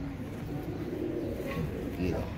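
Heera Laal pigeons give soft, low, repeated coos close by, running beneath someone talking throughout.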